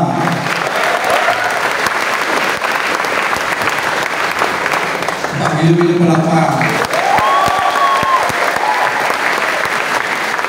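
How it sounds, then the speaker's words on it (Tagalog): A seminar audience claps loudly and continuously, a thick close wash of many hands, while a speaker talks over it briefly and a short vocal sound rises in the middle. "Ganyan ba kayo pumalakpak ng first timer?"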